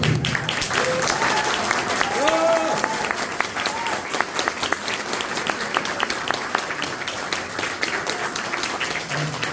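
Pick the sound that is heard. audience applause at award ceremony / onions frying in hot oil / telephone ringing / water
audience applause at award ceremony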